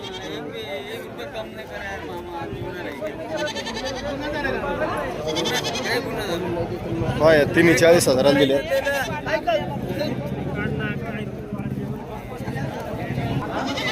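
Goats bleat repeatedly at a busy Saturday livestock market in Shirur, Pune, with wavering cries rising over a crowd while people talk and haggle nearby.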